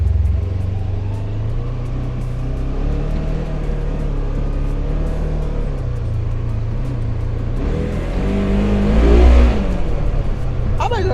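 A Polaris General side-by-side UTV engine drones loudly while driving off-road, then rises in pitch and effort near the end as it pulls in a longer gear.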